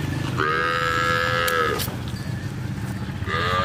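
Dairy cow that has calved twice, with her calf nearby on a farm, letting out two loud, drawn-out moos, the second starting as the clip ends, with no talking.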